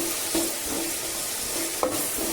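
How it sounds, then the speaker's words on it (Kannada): Tomato frying in a pan for soya pulao, with a steady close sizzle and a couple of brief spoon scrapes, short and alone. "ಈಗ ಟೊಮೊಟೊ ಒಂದು ತರ್ಟಿ ಸೆಕೆಂಡ್ ಒಂದು ಮಿನಿಟ್ ಫ್ರೈ ಆಗಲಿ"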